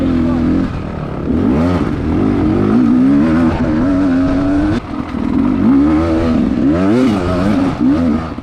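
An off-road dirt motorcycle ridden hard on a trail race lap, its engine loud and close, revving up and down through gear changes almost continuously.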